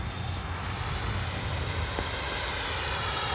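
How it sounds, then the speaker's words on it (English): An RC Freewing 90mm Eurofighter model jet makes a low pass with its gear down, its ducted-fan engine roaring loud and steady throughout with a broad rushing whine. "Gears down. Ready to land. Do a gear pass here."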